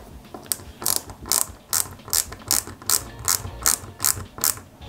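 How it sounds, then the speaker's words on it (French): A ratcheting screwdriver clicks in quick repeated bursts, driving small screws into a part of a 1:8 scale Peugeot 205 GTI 1.9 model kit, close up and alone. "on va les fixer avec 4 vis AM et je visse"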